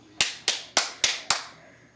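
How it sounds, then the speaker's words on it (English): Hands clapping five times in an even, deliberate rhythm during a preaching service, sharp close claps in a reverberant room, each with a short ringing decay. "Put your hands together and receive Pastor Crawley."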